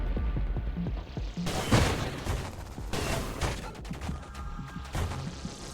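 A spaceship in the video game Nova Drift fires a rapid string of shots, punchy booming blasts at close range with louder bursts near two and three seconds, no talk.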